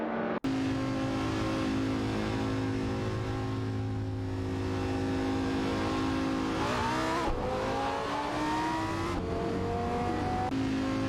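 In a racing video game, GT cars including a Ferrari F430 GTC and Dodge Viper GT2 race cars rev hard, their engines whining continuously with rising and falling pitch as several cars shift gears close together.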